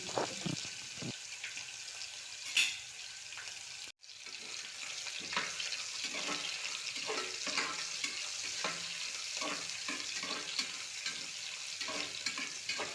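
Chopped onion frying in hot oil with dry spices for a vegetable pulao, a steady sizzle broken by repeated scraping stirs of a spoon in the pan, close and continuous with no talking.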